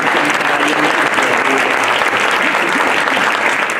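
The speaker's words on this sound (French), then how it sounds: "Et vous pouvez l'applaudir parce que Michel" A crowd at a 2025 New Year's greetings ceremony in Isola applauds Michel, who runs the processing workshop, in a dense, loud, continuous burst of clapping filling the room.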